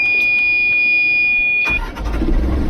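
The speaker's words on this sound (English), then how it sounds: "you fire the engine back up" A sailboat's diesel engine cranks and catches after a preheat, a loud close rumble bursting in abruptly after a steady high beeping tone and lingering as a low idle.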